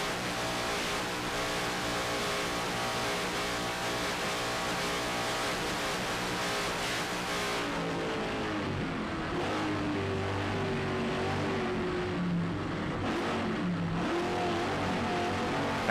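Mercury Racing engines on a Skater offshore powerboat roar in a steady, loud, sustained drone with shifting tonal whine, heard on board throughout with no talk.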